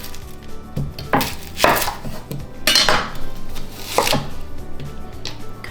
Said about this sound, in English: next we're gonna cut our onion